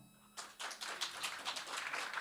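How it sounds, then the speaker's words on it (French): A studio audience applauds, starting with a few scattered claps and swelling into steady, moderately loud clapping that carries on to the end, with no voices over it. "Team Sega, applaudissez maintenant"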